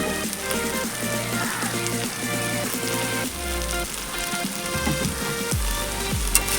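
Ghee and garam masala sizzle in a cooking pan during preparation of a mung dal and ash gourd ghonto, a steady crackling hiss running throughout under layered background music.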